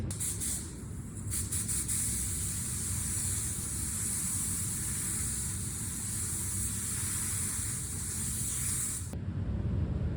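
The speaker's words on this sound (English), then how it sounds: "I use this with air, go over and remove all the small dust particles which is on the area where I'm gonna paint." Compressed air from an air gun blows dust off a crashed plastic car bumper, a loud steady hiss running for about nine seconds before cutting off abruptly.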